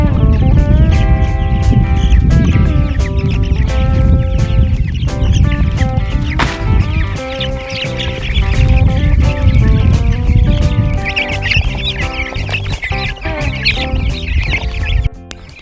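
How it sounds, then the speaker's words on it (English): Meat chickens of a fall batch on a small multi-species farm, heard as continuous overlapping clucking under a dense layer of music for the whole stretch. "So we got our fall batch of meat chickens here."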